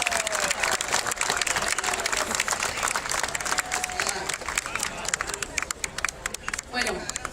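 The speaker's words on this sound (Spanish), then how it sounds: "a quien recibimos con fuertes palmas de solidaridad, de fraternidad." A large crowd at a peoples' summit claps steadily and loudly throughout, with some cheering and a Spanish-speaking voice over the public address mixed in.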